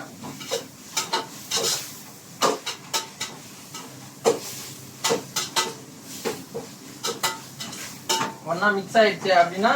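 A spoon stirs biryani masala of onion, tomato, curd and salt in a pot for chicken dum biryani, producing steady rhythmic scraping strokes with metallic clinks and a light sizzle throughout.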